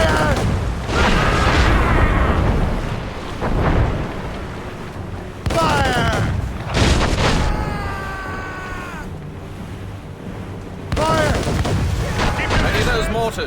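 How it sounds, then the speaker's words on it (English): Heavy mortar fire in Assassin's Creed Rogue, with booming blasts repeating in loud bursts, mixed with shouted voices and music across the scene. "They're firing mortars!"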